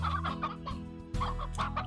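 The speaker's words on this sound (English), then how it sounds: "Oh, look, there's a fucking rooster over here." A rooster in the Slime Rancher video game clucks in a string of short, bright calls over a steady low in-game hum, close and fairly loud, with no talk.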